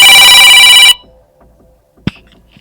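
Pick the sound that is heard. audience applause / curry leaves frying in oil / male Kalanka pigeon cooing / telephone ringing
telephone ringing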